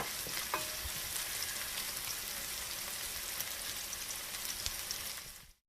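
Igado with garlic simmering in a pan: a steady, dense frying sizzle and crackle runs close and continuous, with a few soft stirring clicks, before cutting off abruptly near the end.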